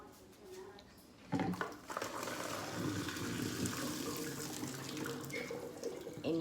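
Boiled beans are poured into a strainer in a sink, with a quiet start giving way to a sudden splash, then steady running water close by.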